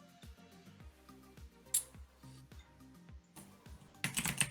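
A Razer BlackWidow mechanical keyboard clatters with rapid, close keystrokes in an uneven rhythm, bursting into a louder flurry of clicks at the end, with no talking.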